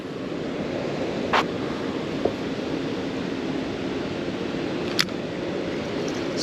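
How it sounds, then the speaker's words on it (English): Fast-moving river water below a dam mixed with gusty wind buffeting the microphone, a continuous rushing wash broken by a few brief clicks and knocks, no talk. "Water's moving fast too."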